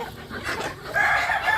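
Sonali chickens cluck in a close, steady flurry of short calls, the flock growing louder and busier in the second half.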